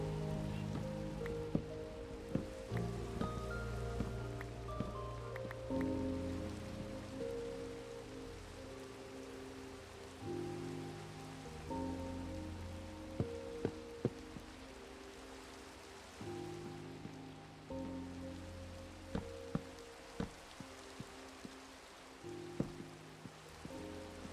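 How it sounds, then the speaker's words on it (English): Rain in Minecraft, a steady soft patter of rainfall on surfaces running evenly under gentle background music, with occasional light drip clicks and no talk. "Oh, it's already feeling so cozy with the rain."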